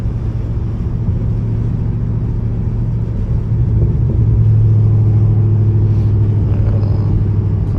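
A catless Dodge Charger Scat Pack rumbles at low revs while driving, a deep steady exhaust drone heard from inside the cabin, swelling slightly midway with light acceleration.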